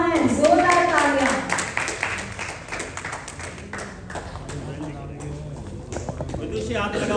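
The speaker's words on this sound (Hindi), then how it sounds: "एवरीवन तालियां कहाँ हैं? जोरदार तालियां." Applause at a Legendary Peace Awards Council excellence awards ceremony, clapping rising loud at first then continuing steadily under music and voices.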